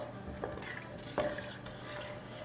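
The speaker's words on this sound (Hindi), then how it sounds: "ज़रा सा इसका क्रैकल होने का वेट कर रहे हैं ताकि खुशबू जो है गरम मसाले की ऑयल में रच बस जाए" Bay leaf, star anise and white cumin crackling in hot oil, a soft frying hiss broken by a couple of sharp pops and light stirring scrapes, quiet and close.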